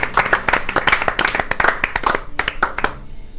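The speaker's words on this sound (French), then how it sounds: "Eh bien, nous applaudissons notre" Audience clapping for the 2025 book prize laureate at an award ceremony, a dense run of individual hand claps from a modest crowd, steady and close, tapering off near the end.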